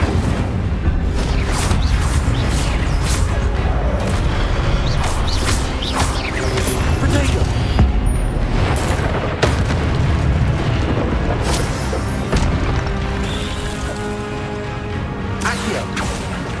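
Incendio fire spell cast in Hogwarts Legacy amid dense combat, with repeated bursting blasts and crashing impacts filling a loud, continuous battle soundscape.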